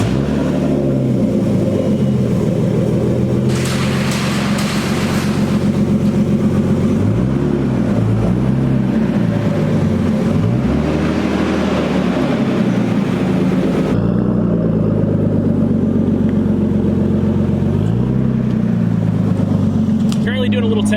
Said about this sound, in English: Doing a little test drive just to see how it feels